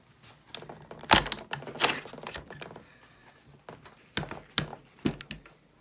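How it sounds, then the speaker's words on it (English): Magazine pulled from a PTR-91 rifle, an HK G3 clone: a handful of sharp metallic clacks and thunks up close, two strong knocks early then lighter clicks, quiet in between, no voices. "So we'll take the mag out."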